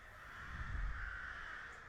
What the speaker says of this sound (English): No, it's just more crows.